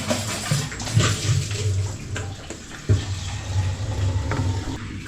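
Water gushes steadily from a household tap into a bucket or tub, a continuous splashing rush at close range with a few bumps and knocks, and no one speaking.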